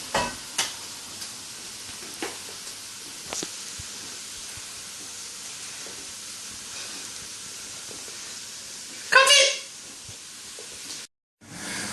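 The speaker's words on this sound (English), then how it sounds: "Stir it for 5 minutes until it's softened." Onions and carrots sizzle steadily while being stirred in a pan for a shepherd's pie, a soft continuous frying hiss with occasional utensil scrapes and a brief louder burst near the end.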